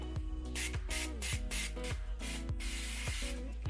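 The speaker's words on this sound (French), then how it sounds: "c'est pas en spray classique, on peut rester appuyé et du coup pulvériser partout" Pink hair colour spray hisses from a can in short repeated bursts, about eight close, loud sprays separated by brief pauses.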